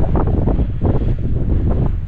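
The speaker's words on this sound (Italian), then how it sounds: "Madò, il vento è gelido" Strong, cold wind by the sea buffets the microphone in a steady low roar, with surf rumbling underneath, loud and continuous throughout.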